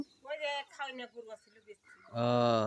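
Speech is followed by a loud, close cow moo near the end, sustained and low.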